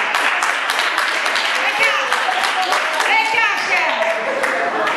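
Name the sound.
church congregation applause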